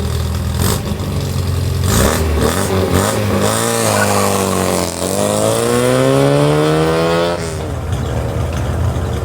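A 1970 MGB racing through an autocross course, its engine loud and close, revving up and down with rising and falling pitch as it accelerates and brakes between gear changes.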